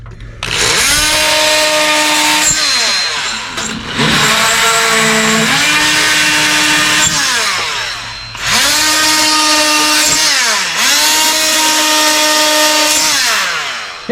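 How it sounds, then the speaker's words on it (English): An oscillating saw trims boat bunks in bursts, its high buzzing whine starting and stopping in four long runs with short pauses between, loud and close. "just trim these bunks off with the oscillating saw, which should go fairly quickly"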